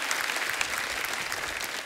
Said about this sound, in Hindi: एक बार मनीषा जी और महिमा जी के लिए जोरदार तालियां हो जाए।